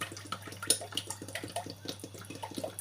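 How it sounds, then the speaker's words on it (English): Groundnut oil poured for frying snacks makes a steady close-up liquid trickle and splash with uneven gurgling pulses throughout, alone with no voices. "We need to pour in our groundnut oil, no wasting time."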